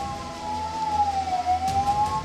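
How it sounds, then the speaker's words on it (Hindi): Ambulance carrying a critical-care patient sounding its siren while stuck on a blocked road at the Singhu border during the farmers' protest, a loud, slowly wavering wail over low traffic rumble. "ये आप देखिए, एम्बुलेंस है, क्रिटिकल केयर पेशेंट है"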